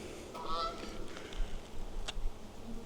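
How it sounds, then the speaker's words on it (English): Geese honking in a backyard near a bee yard, a few scattered nasal honks at moderate distance over quiet outdoor ambience, with no voices. "Geese. Geese are my nemesis."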